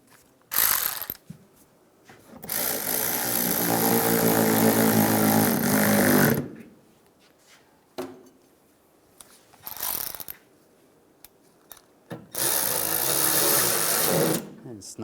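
A ratchet tightens fasteners on a 2007-2013 Chevrolet Silverado during a horn replacement, with several loud bursts of rapid clicking separated by pauses and brief handling noises.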